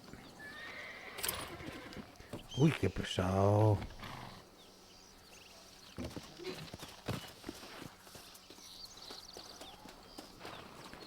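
Horses in the Red Dead Redemption video game: a loud horse whinny rises early, with scattered hoof clops and game noise around it, and someone speaks briefly over the scene.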